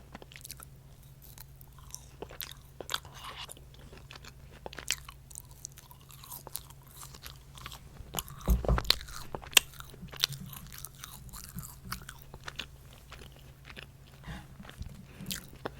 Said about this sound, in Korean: 이 감자튀김 여기 찍어 먹으면 맛있는 거 알아요?